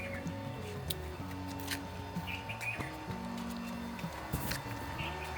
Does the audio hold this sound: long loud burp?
no